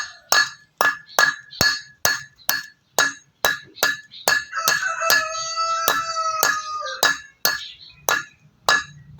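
Sharp metallic hammer blows strike close by in a steady, even rhythm during a wheel repair on a 2008 Toyota Revo Sportivo, with a rooster crowing partway through.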